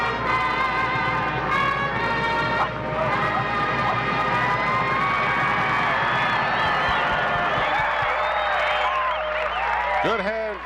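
A crowd at a high school football game between the Bethel Bruins and the Hampton Crabbers cheers and shouts loudly and steadily, with whoops and children's shouts rising above the din, while announcers talk over it.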